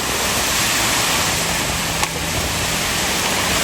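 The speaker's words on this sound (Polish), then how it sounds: "Falka dzisiaj jest bardzo dobra." Sea waves at a beach in Alicante, heard as a steady, loud broadband wash of surf with no talking.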